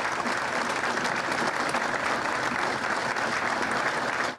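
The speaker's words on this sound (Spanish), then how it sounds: "Pido un fuerte aplauso para todos ellos." Sustained applause from a large audience at an official ceremony honouring fallen security officers in Coahuila, a dense, steady wash of many hands clapping at even loudness for over four seconds before cutting off.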